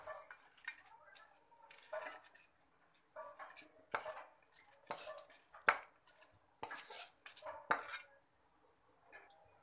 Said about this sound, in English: Now you can see I'm transferring all the fried ingredients to mixer jar.